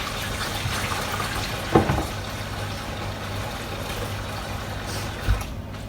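A kitchen tap runs water to soak a spoon, a soft steady splash at modest distance with a couple of brief clunks along the way.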